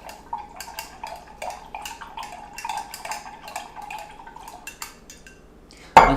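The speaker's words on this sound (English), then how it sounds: "I'm just going to stir it up." Utensil stirring nutrient solution into water in a container for Kratky hydroponics, a steady clinking, swishing rhythm close by, ending with a sharp knock.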